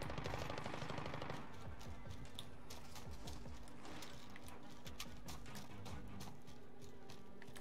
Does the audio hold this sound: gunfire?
yes